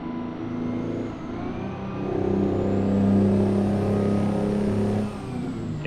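A Mack R truck with a two-stroke engine in a truck-driving video game revs up and down, its droning engine note rising and falling through early gear shifts, loud and continuous.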